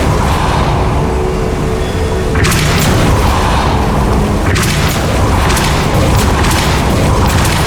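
A Depulso spell cast in the video game Hogwarts Legacy, with loud, dense booming blasts over a constant rumble. Sharp bursts come in clusters, one around the middle and another late.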